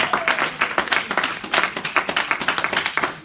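A church congregation claps together in a steady, rhythmic beat, many hands striking in time, loud and close, with no talking over it.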